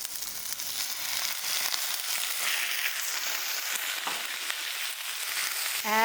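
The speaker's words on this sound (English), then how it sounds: "So while it's getting hot, I'm going to put the kimchi in." Kimchi frying in hot scallion-seasoned oil, a bright, loud, continuous sizzle and crackle close up, with a few stirring scrapes and no talking.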